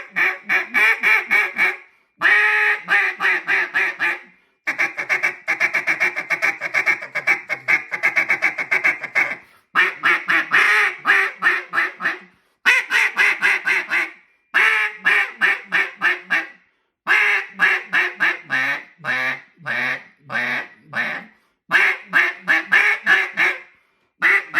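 An acrylic double-reed duck call blown in a series of soft yet raspy quacks, close and loud, in rhythmic bursts of several notes separated by short pauses.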